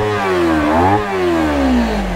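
A Kawasaki Ninja 300 motorcycle with its exhaust removed revs up and back down, a loud, close, raw engine note rising and falling in pitch.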